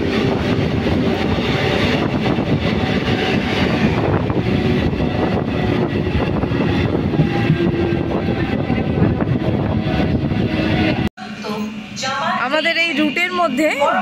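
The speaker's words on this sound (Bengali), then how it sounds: "ট্রেন ছেড়ে দিল" A passenger train pulls out of Deulti station on the Howrah–Khirai route, its steady loud rumble and rushing wind filling the first eleven seconds before cutting off abruptly, followed by someone speaking.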